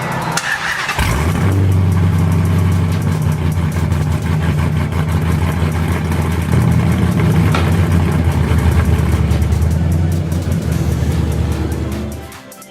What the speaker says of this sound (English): get the mufflers put back on, and we'll start it up to see how it sounds